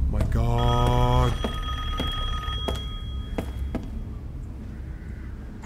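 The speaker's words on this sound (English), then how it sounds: "There's a fucking phone ringing, dude." An old telephone bell rings in a castle in the video game Resident Evil Village, a loud rapid metallic trill followed by fainter repeated rings as someone talks over it.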